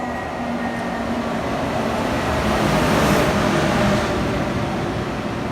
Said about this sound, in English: just riding the KTX and whatnot